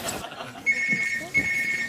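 A phone rings with a trilling electronic tone in two short bursts, fairly close, with some background noise.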